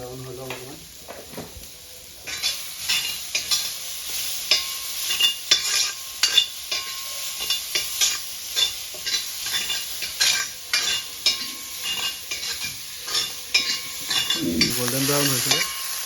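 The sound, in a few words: pork frying and being stirred in a pan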